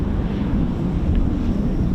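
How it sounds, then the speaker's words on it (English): Wind buffets an outdoor microphone at an air force base in steady, loud low rumbling gusts that last the whole moment, with no voices over it. "It's a little bit windy than I'd expected."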